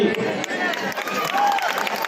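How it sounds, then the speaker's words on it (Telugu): Audience applause and crowd noise at an award function, honoring a man called Bhagwan sir, a steady wash of clapping over about two seconds with murmuring voices mixed in. "ఒక huge round of applause Bhagavan sir కి"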